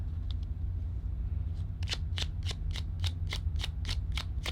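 Tarot cards being shuffled by hand, a short riffle of about ten crisp, evenly spaced flicks following a few faint taps, close up over a steady low hum.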